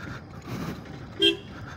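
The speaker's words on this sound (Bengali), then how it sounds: "শুধু ইগনিশনে রেখেছি হর্নটা দেওয়ার জন্য" A single short car horn toot, brief and moderately loud, over a low hum of idling traffic.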